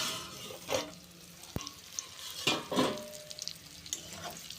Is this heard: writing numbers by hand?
no